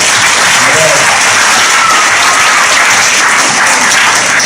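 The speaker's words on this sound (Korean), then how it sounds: "우리 박수를 한번 환영해 주세요" Applause from a church congregation welcoming first-time young attendees at a Sunday worship service, a dense, steady wash of many hands clapping continuously and fairly loud throughout.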